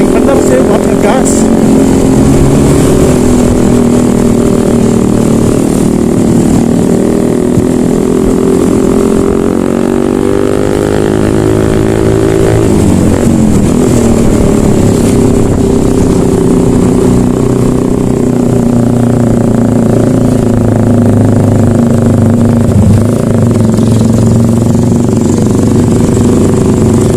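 A 2004 Vespa Excel scooter engine drones loudly and steadily throughout, the pitch rising and sweeping as it accelerates on a longer stretch of road, heard from the rider's position.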